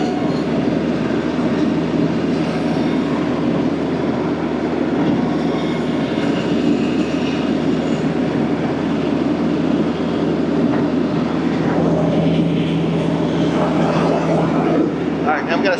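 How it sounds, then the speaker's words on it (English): A tractor's PTO drives a Baumalight 3P24 articulating stump grinder, a loud, steady mechanical drone with a constant low hum that runs throughout at close range. "This time the PTO is already running."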